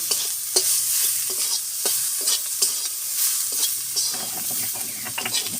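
Turmeric powder fries in a pan with a close, continuous sizzle, broken by repeated scraping and stirring strokes and light clinks of a utensil against the pan.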